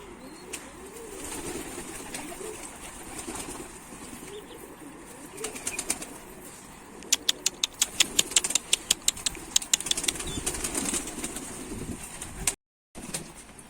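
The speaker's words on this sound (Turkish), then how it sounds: "Kuşumuzu indirdik mavi birincisi ama diğeri kalktı gitti." A pigeon flapping its wings while landing on a rooftop, a burst of rapid clapping wingbeats at moderate distance over outdoor ambience, with a short silent gap near the end.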